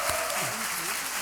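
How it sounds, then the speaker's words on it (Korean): Audience applause at a Korean policy debate on elderly long-term care, held at the National Assembly: dense, steady clapping from a seated crowd, with a voice briefly talking over it. "다시 한번 크게 박수 부탁드립니다."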